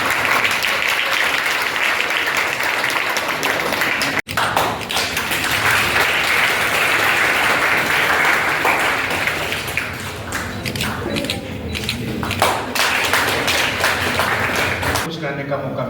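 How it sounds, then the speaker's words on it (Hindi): Audience at a one-day university workshop on silkworm rearing at Banaras Hindu University, sustained loud clapping filling the hall with a few taps and thumps, tapering slightly late, a voice speaking over part of it. "ताली में दम तो हुआ"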